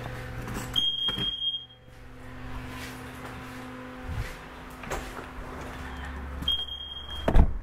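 Two short high-pitched chirps from a smoke alarm, one early and one near the end, over a dull hum with clunks and rustling in a garage.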